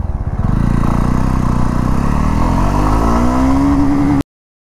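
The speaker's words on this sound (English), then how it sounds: "Okay, I'll show you the power delivery now." A Jawa 42 motorcycle engine revs up close and loud, climbing steadily in pitch through a long pull before cutting off abruptly into silence.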